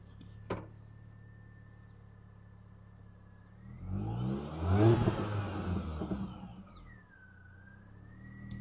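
An R53 Mini Cooper S engine at idle is revved up, then falls back and dips low, nearly cutting out, with a steady whine throughout and the rising and falling rev sweep heard close up.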